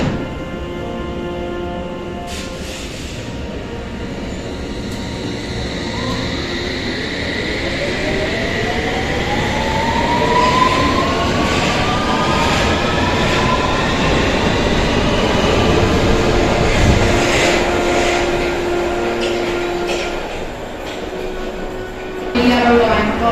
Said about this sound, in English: when the S-Trains run at full power, they sound much better than they used to